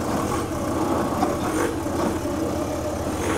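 Steady engine drone of a vehicle rolling straight ahead during a bus project, a continuous low rumble heard from inside, loud and unbroken with no talking.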